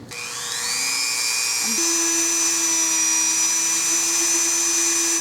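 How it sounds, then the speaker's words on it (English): A Dremel rotary tool with a tiny tip drills into a bead, giving a high, steady whine that spins up quickly and holds loud and close for several seconds. "all I'm going to do is take my Dremel tool and very carefully"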